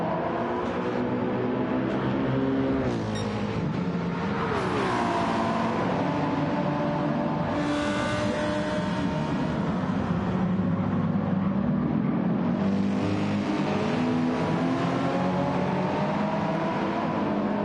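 Race car engines in a racing game on the Daytona road course scream and rise in pitch together, a steady, dense, loud drone of several cars accelerating wheel to wheel, with gear changes bending the tone.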